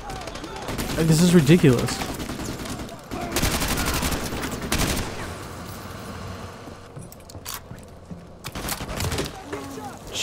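Bursts of gunfire in Call of Duty Modern Warfare 2 Remastered campaign combat crackle and rattle in dense volleys with pauses between, loud and close, while a player talks over the shooting.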